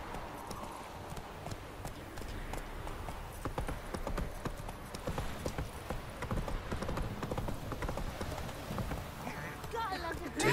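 Roach the horse gallops in Witcher III, hooves clip-clopping in a steady rapid rhythm, close and fairly loud throughout, with scattered game sounds layered over the hoofbeats.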